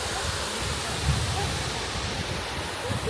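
Waterfall in a park in Oslo, Norway, a steady broad rushing roar of falling water close by, continuous and loud throughout with a faint murmur of people.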